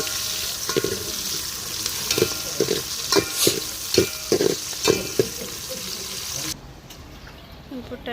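Onion and green chillies fry in a pan while being stirred, giving a steady sizzle broken by regular scraping strokes. The sound drops abruptly near the end.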